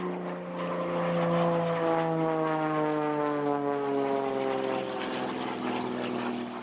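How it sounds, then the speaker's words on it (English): A Pitts Special aerobatic biplane drones overhead at an airshow, its propeller engine a steady, fairly loud buzz that shifts slowly in pitch as it passes. "28-year-old Stefan Trischuk is one of the pilots brought in to help tease the event with his Pit Special biplane, Stinger."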